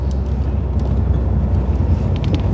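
Wind buffets the microphone while driving a Renault Laguna Coupe 2.0 dCi diesel, a steady loud low rumble and roar with faint higher hiss, continuous throughout without voices.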